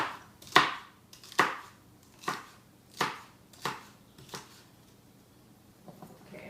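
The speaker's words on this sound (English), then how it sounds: "And then you just cut it horizontally in little slices." A knife slices vegetable stalks horizontally into little pieces on a cutting board, with about seven crisp, evenly spaced chopping thuds, close and distinct, and quiet gaps between them.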